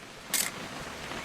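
A camera shutter in What Remains of Edith Finch gives one quick, crisp mechanical click against a soft, quiet background.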